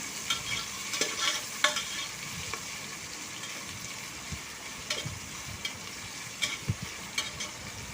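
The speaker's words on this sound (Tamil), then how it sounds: "அதையும் சேர்த்து நல்லா வதக்கிக்கலாங்க" Onions sauté in a pan for mutton biryani, with a soft, continuous sizzle and scattered light scrapes and taps from stirring, fairly quiet and close, no voices.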